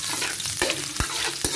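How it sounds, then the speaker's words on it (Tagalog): Garlic and onion sauté in a pan in a home kitchen, a close, loud crackling sizzle broken by three sharp scraping stirs of a spatula. "Ngayon na po ay lalagyan natin ng bawang at sibuyas."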